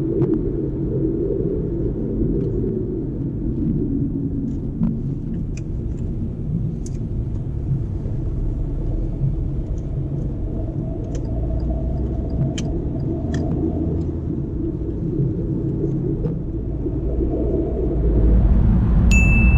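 Steady low engine and road rumble from inside a car driving through a roundabout and onto a dual carriageway during a driving test, continuous and close, with occasional faint ticks and dings.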